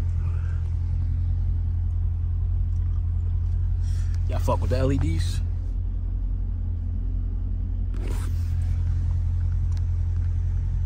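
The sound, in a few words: Dodge Challenger Scat Pack 392 engine rumbling while driving at night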